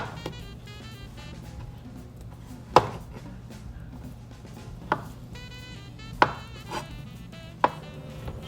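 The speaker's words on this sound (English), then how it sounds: "And once again, we will cube them." A knife chops through roasted beets on a cutting board, landing as a few sharp, irregular close thuds over a steady low background hum.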